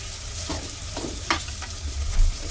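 Masala fries and sizzles in a pan for Ambur-style mutton biryani, a steady, close crackle with occasional stirring scrapes and no talk.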